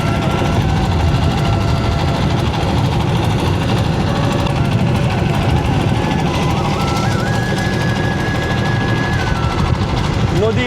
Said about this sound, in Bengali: নদীর বুক চিরে নৌকা একদম ভেসে চলেছে